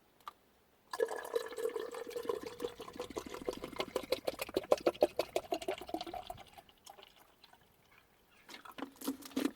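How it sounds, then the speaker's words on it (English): Water pours steadily into a tank while topping up the supply during car camping, a close trickling and splashing stream with rising pitch that fades into intermittent drips near the end. "So that's me topped up with water."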